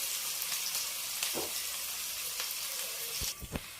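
Onions fry in oil in a pan with a steady, close sizzle, then a couple of sharp clinks from a utensil are heard near the end.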